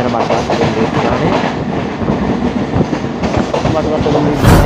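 A train rumbles loudly through a Sri Lankan railway station, with heavy rolling wheel noise and rhythmic clatter close by, and faint voices under the din.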